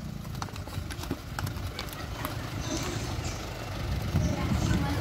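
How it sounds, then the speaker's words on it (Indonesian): Horses' hooves clip-clop steadily on an endurance ride near Bogor with Gaza Stable, several animals close by, amid outdoor rustle and low voices. "Saya dengan kuda Prabu, Sila dengan kuda Lesti, Erna dengan kuda Zuljana, dan terakhir Sally dengan kuda Bintang"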